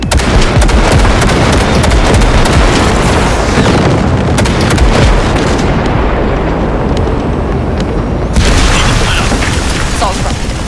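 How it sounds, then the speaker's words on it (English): A monster gate is blown open by an explosion in the video game Cyberpunk 2077. A dense, loud, sustained roar of blast and rumble carries on with little letup, with crackling debris and scattered sharp bangs along the way. "there's a monster gate that needs to be blown open"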